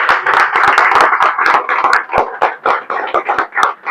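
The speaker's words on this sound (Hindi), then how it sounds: "उनके लिए जोरदार ताली।" Loud, close hand clapping from a group at a Hindi-language birthday celebration event, with sharp irregular claps running steadily throughout.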